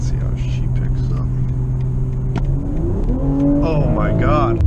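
A 2023 BMW M340i xDrive, stock apart from a mid-pipe-back aftermarket exhaust, revs and accelerates hard from inside the cabin, its engine note rising in pitch as it pulls, loud and steady throughout.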